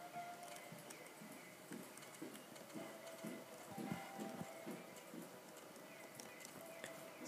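Hooves clip-clop at a steady walking rhythm from a horse in a video game, soft and continuous over a quiet, eerie background.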